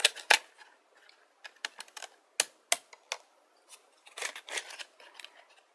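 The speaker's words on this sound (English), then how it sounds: "So this one, I'm going to use these zigzag scissors." Zigzag decorative scissors snip through paper in a series of crisp, close clicks and crunches, irregularly spaced with short pauses, heard alone without talk.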